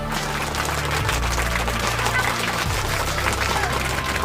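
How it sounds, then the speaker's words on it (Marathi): Children clap steadily through a noisy stretch of a tail-on-the-donkey party game. The clapping is dense and continuous amid crowd bustle and a low rumble. "टाळ्या वाजवा, टाळ्या वाजवा"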